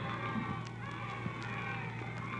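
Dense, steady murmur of a large crowd from a vintage radio drama, a continuous din at moderate level with no distinct voices standing out.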